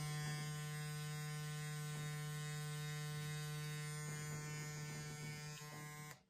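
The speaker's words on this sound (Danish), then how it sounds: "og så bruger jeg hjørnet på klippemaskinen" An electric hair clipper fading a haircut, a steady close buzzing drone that runs without pause and cuts off at the end, with no talk.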